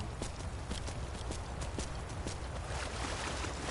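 Hooves of Arvak, a summoned spectral horse in the video game Skyrim, clip-clop in a steady walking rhythm, moderately loud over a dense background wash.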